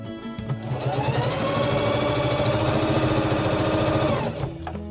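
A sewing machine stitches face masks in a steady, fast run of needle strokes lasting several seconds. It is close and alone, with no talking, and starts and stops cleanly.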